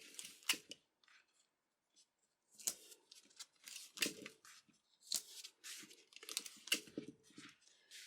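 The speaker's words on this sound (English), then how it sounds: "I'm going to tape this down first" Adhesive tape torn from a roll and pressed onto a paper sewing pattern for a sleeve, heard as a series of sharp, close crinkly rips and paper rustles separated by short pauses.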